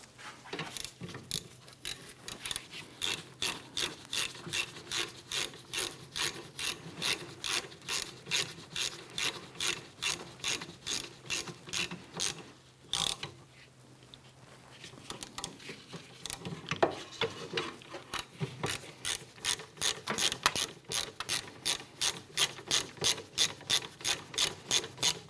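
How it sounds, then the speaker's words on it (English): Ratchet wrench snugging down bolts on the rear wheel bearing and hub assembly of a 2004-2008 Acura TL, a long run of rapid, steady clicking strokes with a brief pause midway, close and clear with no talking. "Let's go ahead and snug those down."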